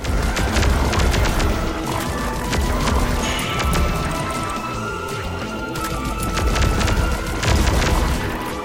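Boss modules being blown apart in the Cuboid Keeper video game, with repeated booming crashes and cracking impacts layered over a steady game soundtrack, loud and busy from start to finish.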